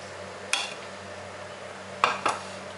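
Scattered clinks of a spoon against a plate while rice is scooped out to serve alongside a trotters (kawarea) dish: three sharp, close metallic knocks, one early and two in quick succession near the end, over quiet room tone.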